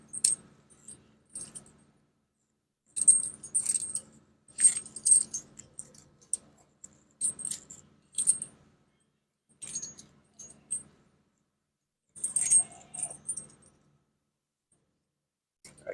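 Metal snow chains on a truck rattle and clink while being tightened, in short bursts of jangling separated by quiet gaps, close by.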